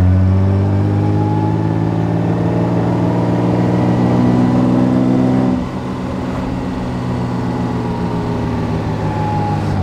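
A 1936 Wanderer W25K's engine drones loudly and steadily from inside the car while it drives, with a harmonic engine note that shifts as it changes speed midway, and no voices.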